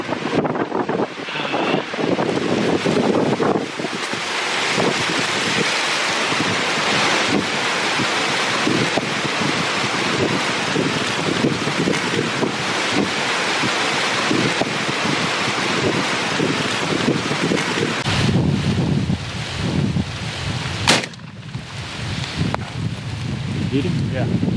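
Strong wind buffets the microphone outdoors on public land during a turkey hunt, a loud continuous roar with gusts that briefly ease near the end.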